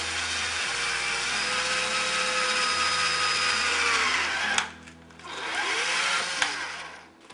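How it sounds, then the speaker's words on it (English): A power drill whines steadily, pitch shifting as it bites while drilling a mounting hole during a reverse osmosis water filter installation, then pauses briefly and spins up again before stopping. "And then just go ahead and drill."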